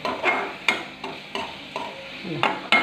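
A spatula scrapes and stirs onions frying in a pan in regular strokes about every half second, with a soft sizzle underneath.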